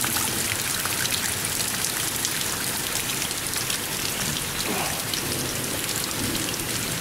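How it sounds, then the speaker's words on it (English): Steady rain falling and pattering on surfaces during a storm, an even, dense hiss that holds at one level throughout without pause. "The rain's just stopping."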